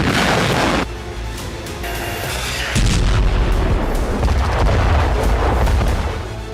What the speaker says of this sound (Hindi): ज़ेपोरिज़िया में यूक्रेन ने एक के बाद एक 9 धमाके किए